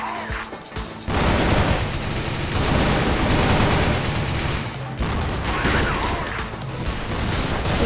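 Gunfire in the video game CrossFire, a dense, loud stretch of continuous shooting and impacts that starts abruptly after a brief quieter moment and carries on with little pause.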